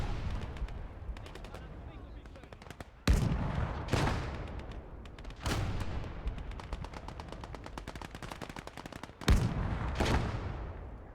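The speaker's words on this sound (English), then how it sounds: "And I can see that gun firing, and I thought this was Pack 40, but actually that's Pack 38." A Pak 38 anti-tank gun in the World War II game Gates of Hell fires several loud, sharp booms at irregular intervals over steady rattling machine-gun fire and distant battle noise, with occasional voices.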